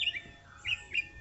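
A wild bird gives three short, high chirping calls, each brief and thin. They are spaced unevenly over about a second, faint and somewhat distant, with no talking.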